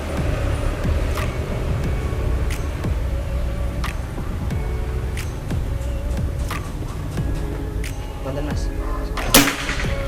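A single sharp PCP air rifle crack near the end, from a full-CNC Pajero Gun Generation 5 rifle, over steady background hum and rustling noise.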